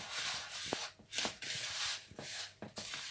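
Hands rub and mix semolina with butter and oil in a bowl for diamond-shaped semolina sweets, making close, soft sandy scraping strokes in an uneven rhythm.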